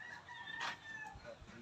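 A rooster crows on a small farm, one clear mid-distance call rising above a steady outdoor background, with faint scattered clucking around it and no talking.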